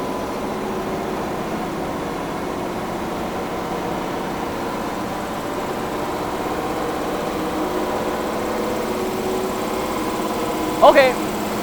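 A Cinova.S machine runs at high speed, around 600 meters per minute, giving a steady, continuous mechanical drone with an even level throughout and a brief clatter near the end.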